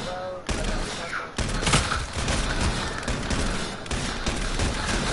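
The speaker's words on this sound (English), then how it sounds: "Someone shot me." Rapid bursts of gunfire rattle through a PS4 shooter video game, loud and near, with dense overlapping shots and a couple of sharp breaks over the whole stretch.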